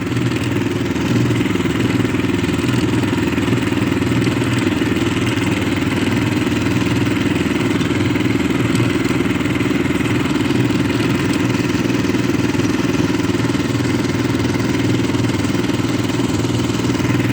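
A walk-behind tractor engine chugging steadily through snow, a constant mid-pitched motor drone with light clatter that stays close and loud throughout, with no talking.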